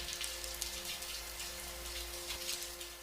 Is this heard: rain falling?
yes